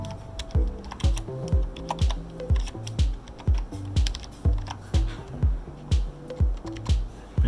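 Keys clack in a quick, uneven rhythm of individual strokes, close up and fairly loud, with no talking.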